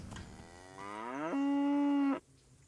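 Cattle in the video game Kingdom Come: Deliverance let out one long, loud moo that rises, holds steady, then cuts off abruptly, with a brief lower lowing just before it.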